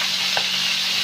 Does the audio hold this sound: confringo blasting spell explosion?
no